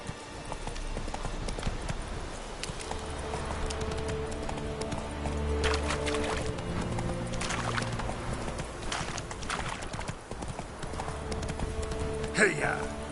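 Video-game horse Roach galloping on a PS4, a steady clip-clop of hooves running throughout with a brief whinny near the end, under game music and some talk.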